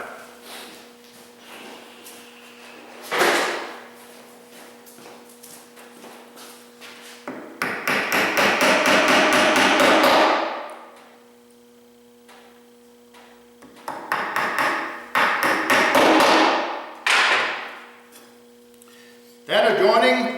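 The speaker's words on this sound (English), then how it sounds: "place a little bit of wood glue on these dowels and then drive them into place here" Fluted wooden dowels, coated with wood glue, are driven into place with a hammer, giving bursts of sharp repeated tapping and knocking blows separated by quieter pauses.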